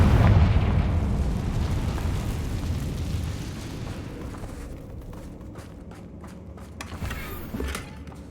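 A Confringo spell explosion in Hogwarts Legacy on PS5 erupts with a loud, deep boom that slowly rumbles and fades over several seconds, followed by faint scattered crackles.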